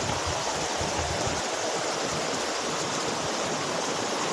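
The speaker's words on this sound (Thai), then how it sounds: "นี่ครับมีน้ำตกด้วยนะครับ" A waterfall and stream rush in a steady, dense wash of water noise, moderately close and unbroken, with no voices.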